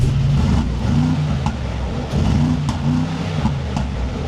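A powerful twin-turbo V8 in a Mercedes G-Class revs steadily and loudly, with a deep rumbling tone and a few quick blips of the throttle.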